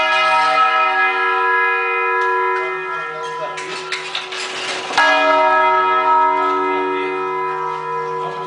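Church bells ring out in São João del Rei, Brazil, a steady sequence of clear, resonant tolls with long sustained overtones, loud and close, layered over one another without pause.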